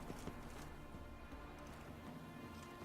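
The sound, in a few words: horse hooves running in The Witcher 3 video game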